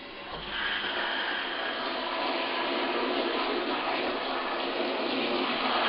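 Cold rinse water gushes steadily and loudly into the tub of an off-grid washing machine, a continuous rushing fill with no pauses.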